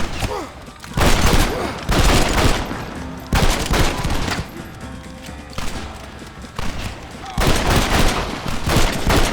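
Gunfire in the Western video game Red Dead Redemption: loud bursts of repeated shots come in several waves across the clip, with brief quieter gaps and faint voices in between.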